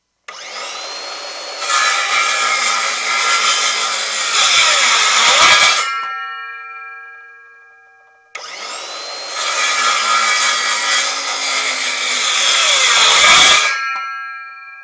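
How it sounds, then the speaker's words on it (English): A cordless circular saw whines up and bites through a 2x4 twice, each cut lasting several seconds before the motor spins down, loud and close. "we're gonna see which circular saw is more capable of making a cut"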